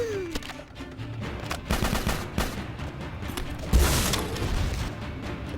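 A level 5 bombard weapon fires during a MicroVolts tournament match, with repeated heavy shots and booming blasts amid constant loud in-game combat noise.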